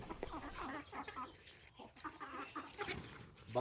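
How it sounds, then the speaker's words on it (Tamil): Chickens on a farm, just let out of their coop in the morning, cluck and chatter near and far in a busy flock, with a rooster audible and a person speaking faintly underneath. "ஸோ இப்போ பார்த்தீங்கன்னா கோழிங்கெல்லாம் திறந்து விட்டாச்சுங்க"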